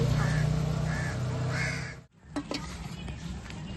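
A crow caws loudly and close by, three harsh calls in an uneven rhythm, followed by softer scattered calls and clatter nearby.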